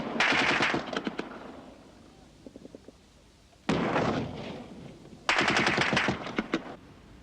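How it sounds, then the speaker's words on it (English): Egyptian forces fire a barrage across the Suez Canal toward Israeli positions in the 1973 Yom Kippur war: loud bursts of rapid machine-gun fire, a gap with a few faint distant shots, then two more heavy volleys. "the Egyptian forces unleashed a barrage of fire across the canal at Israeli positions"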